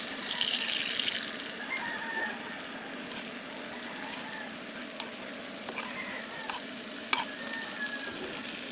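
Egg and tomatoes fry in a pan, a soft steady sizzle with occasional stirring clinks and scrapes, close up and moderately quiet.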